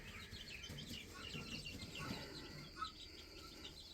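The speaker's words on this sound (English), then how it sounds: "I have the baby guineas and bantams out here in the brooder house now in my little shed." Baby guineafowl keets and bantam chicks in a brooder house inside a small shed give soft, overlapping peeps and chirps beneath a constant low background hum, faint and continuous.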